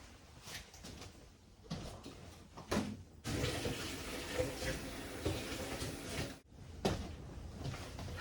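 Water poured into prayer plant potting mix at close range, a steady splashing stream lasting several seconds between a few soft bumps and handling noises.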